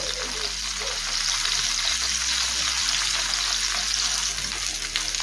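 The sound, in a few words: paneer pieces frying until light brown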